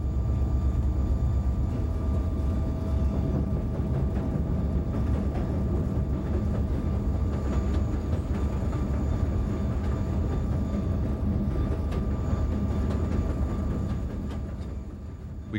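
A BNSF freight locomotive pulls its train through the Ozark country of the Cuba Sub, heard from inside the cab as a steady deep rumble and drone with faint rattles, easing slightly near the end.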